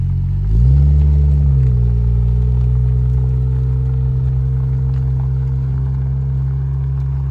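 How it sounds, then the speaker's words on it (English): A Toyota 1JZ engine in a Toyota Cressida revs up sharply, then settles into a loud, steady, deep idle rumble that holds on alone to the end. "Listen to that 1JZ."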